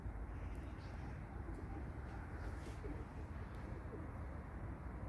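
Pigeons coo faintly outdoors, soft low calls repeating under a constant low background rumble.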